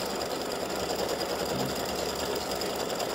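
An embroidery machine stitching a gnome's beard runs at a steady, rapid mechanical whir with a fine repetitive needle rhythm, close and continuous with no voices.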